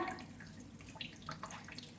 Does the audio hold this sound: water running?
yes